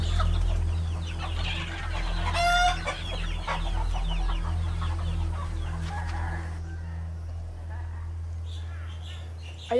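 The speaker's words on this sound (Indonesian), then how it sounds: "Ayam siapa ni?" Chickens cluck and a rooster briefly crows over steady low background hum, with people speaking throughout.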